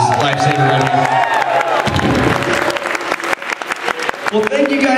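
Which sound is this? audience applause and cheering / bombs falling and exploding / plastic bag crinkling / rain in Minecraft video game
audience applause and cheering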